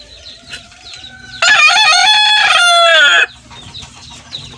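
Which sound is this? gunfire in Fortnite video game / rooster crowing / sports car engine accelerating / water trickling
rooster crowing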